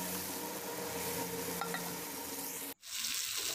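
Green chili sambal frying in a pan gives a dense, continuous sizzle with a faint stirring scrape, close and fairly loud, cutting off abruptly near the end before a quieter hiss resumes.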